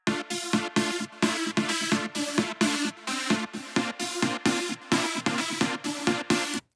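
A synth plays a repeated rhythmic chord pattern in the left channel, short bright stabs pulsing evenly with brief gaps between them, loud and close.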